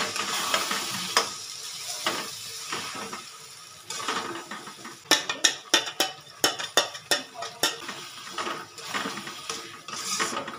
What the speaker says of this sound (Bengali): এবার আমার মশলাটা সুন্দর করে কষানো হয়ে যাচ্ছে